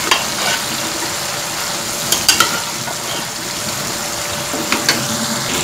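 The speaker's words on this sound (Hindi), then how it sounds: "जैसे ही आपका लहसुन अदरक 2 मिनट भून जाएगा आपने अपना गोश्त ऐड करके इसको भून लेना है," Mutton sizzles steadily in hot oil with garlic and ginger in a karahi, a continuous loud frying hiss with a few soft clinks of stirring.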